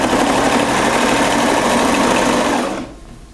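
A sewing machine stitches a seam in French terry fabric on a sweater, running in one loud, continuous whirring burst that stops abruptly near the end.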